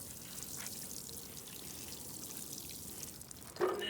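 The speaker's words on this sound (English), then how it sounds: "I'm going to add some water." Water pours onto bran for compost, a soft steady trickle and splash heard close and quiet, ending with a brief louder splash.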